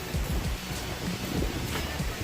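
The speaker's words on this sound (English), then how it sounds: "Man, it's windy out too." Strong wind buffets the microphone outdoors in a steady, loud roar that lasts the whole stretch, with gusty low rumbling and no clear voices.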